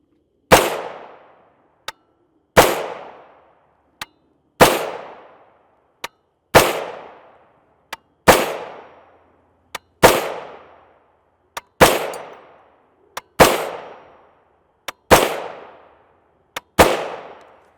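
Nine sharp, loud 300 Blackout rifle shots from a 16-inch barrel firing 150-grain FMJ rounds, each blast followed by a short ringing decay. Fainter distant cracks from other shooters fall between them at a slow, fairly even pace.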